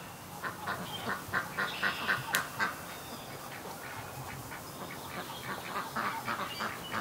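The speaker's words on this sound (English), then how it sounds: "So we got ducks and geese" Ducks and geese, including Muscovy ducks, honk and quack in a loose run of short calls, clustered in the first few seconds and again near the end, fairly faint against a quiet outdoor background.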